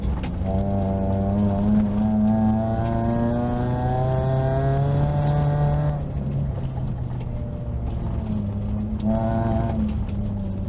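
A Suzuki Swift Group N rally car drives on gravel at a rally school. Its engine drones loudly and steadily from inside the car, with the revs climbing and falling in smooth sweeps and no talking.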